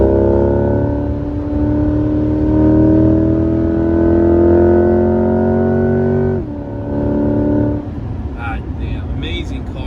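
Chevrolet Corvette C8 engine drones loudly and steadily as it pulls up through the revs. Then it drops sharply on a gear change, climbs again and fades into road noise, heard from inside the car.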